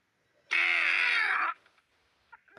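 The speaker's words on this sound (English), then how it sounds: "What a funny trumpet noise." A children's toy trumpet blares one loud, nasal, buzzy blast lasting about a second, stopping abruptly, followed by a few faint scattered noises.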